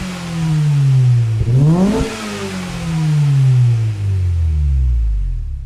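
Honda Civic SIR2 engine revving in a racing video game, pitch climbing and falling through several sharp rev sweeps, loud and alone with no talk.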